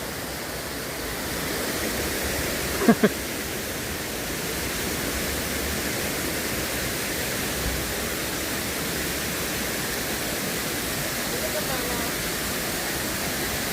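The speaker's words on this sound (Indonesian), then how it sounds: "Sini kan enak ada suara gemericik ya." A steady broadband rush of water near a waterfall fills the scene without pause, with a couple of faint clicks and muffled voices.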